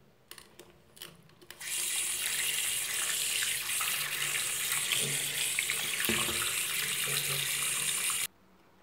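Water gushes steadily from a tap while a baby doll is bathed, after a few light knocks and handling sounds, a loud, continuous splashing stream that stops abruptly near the end.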